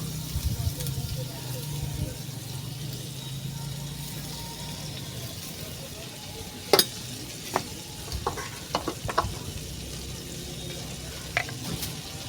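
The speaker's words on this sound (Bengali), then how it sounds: "তো বাটার দিয়ে চপটা বানাচ্ছি" Butter sizzles and fries in a pan while a cabbage chop is being made, a steady close hiss broken by a few sharp clinks and scrapes of a utensil, with a voice talking now and then.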